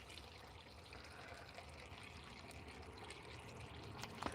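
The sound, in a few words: water being poured into a car cooling system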